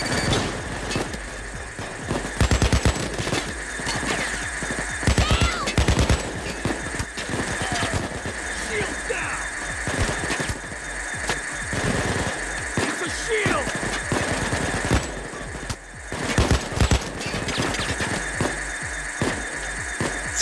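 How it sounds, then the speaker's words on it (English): Enemy gunfire in the Payday 2 VR heist game crackles in scattered bursts and single shots amid a dense, noisy mix of mechanical rumble, with a voice speaking over it. "Shooting at me now."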